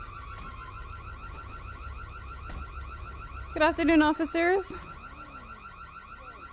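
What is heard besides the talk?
car alarm in video game GTA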